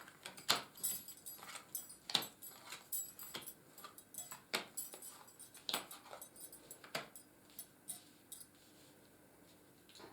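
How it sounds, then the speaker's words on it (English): Rider-Waite tarot cards are set down one after another on a table, giving soft, sharp taps and slaps spread through the stretch, with light shuffling between them and no talking. "So I'm just going to place the cards down now."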